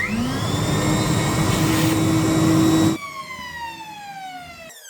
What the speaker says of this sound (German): Dazu habe ich den Einschaltstrom dieses Industriestaubsaugers gemessen.